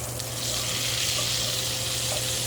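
Onions sauté in a pan over a medium flame for Jamaican corn, giving a steady soft sizzle with a low hum beneath and no voices.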